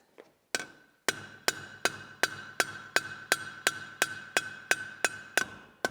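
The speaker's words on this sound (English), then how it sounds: "Just flattening it on the anvil as I go." Soft metal is hammered flat on an anvil with a steady series of about a dozen sharp, ringing clangs, evenly spaced and close by, each blow leaving a short metallic ring.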